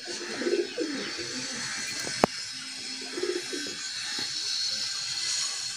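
Sialkoti pigeons coo in soft, low, repeated bursts at close range, with faint chirps from other birds and a sharp click partway through, over a steady background hiss.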